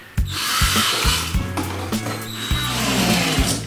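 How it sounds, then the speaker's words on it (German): A power drill bores into material for a homemade ice-bazooka shisha mouthpiece, running in short repeated bursts that start and stop close up, with no talking. "Ich habe Lust zu bohren."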